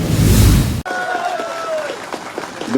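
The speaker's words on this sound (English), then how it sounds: "A big round of applause for you all." An audience at a student union foundation day celebration in Arunachal Pradesh applauds loudly, a dense burst of clapping that cuts off abruptly, after which a voice carries on over faint sounds.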